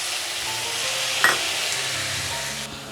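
Chopped tomato hitting a pan of frying chicken pieces for chicken ghugni, a steady moderate sizzle with a brief utensil clink partway through, no talking.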